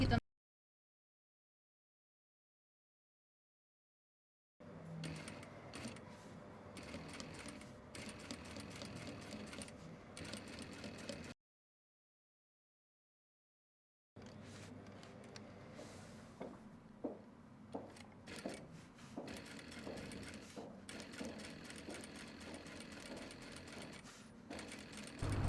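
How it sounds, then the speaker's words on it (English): A sewing machine runs double top stitching along a skirt seam in two long steady stretches of fast mechanical whirring, separated by brief silence, close and alone without talk. "Such double top stitching reminds me of jeans style."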